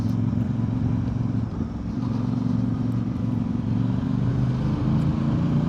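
A Voge DS800 X Rally motorcycle is ridden, giving a steady, loud low engine drone with wind rush, continuous and close, with no talk.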